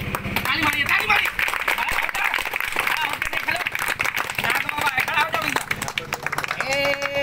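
A crowd watching a street magician's show claps in a busy, uneven patter of hands, mixed with lively chatter and talk throughout.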